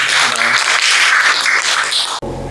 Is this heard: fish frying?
no